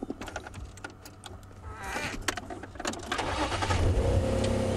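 A safari vehicle in Sabi Sand starting to drive at sunset, with clicks and rattles followed by a rising engine rumble that grows louder and steadier, and no voices.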